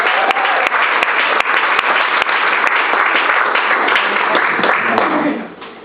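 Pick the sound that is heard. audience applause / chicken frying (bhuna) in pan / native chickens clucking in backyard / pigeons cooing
audience applause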